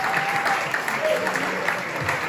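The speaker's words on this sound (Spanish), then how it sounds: "Podéis aplaudir, sí, hombre, no pasa nada" Audience applause at a board game festival gala show in Barcelona, a steady dense clatter of many hands clapping throughout, fairly close and continuous.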